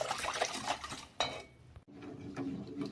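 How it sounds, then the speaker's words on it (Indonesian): Fruit pudding mixture in a pot is stirred continuously while it cooks toward a boil, with close, busy scraping and clinking of a utensil against the metal and a brief knock partway through. "Jangan lupa selama kita masak, ini kita aduk-aduk terus ya."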